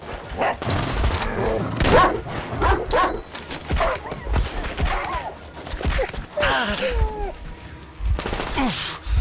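Dog barking in the post-apocalyptic shooter game Metro Exodus, several sharp barks and yips scattered among bursts of gunfire and clattering combat noise.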